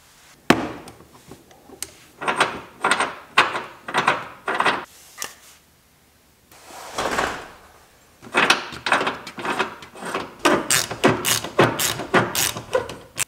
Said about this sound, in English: Now all I have to do is tighten this down. Hopefully I have an open-ended wrench big enough